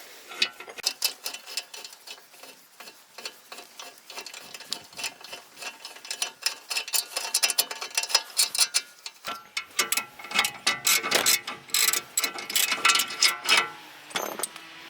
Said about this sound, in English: Just drive that in there and it pulls the race right out.